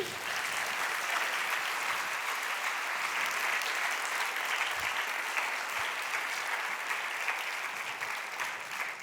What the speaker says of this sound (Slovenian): Hvala vsem, en aplavz, prosim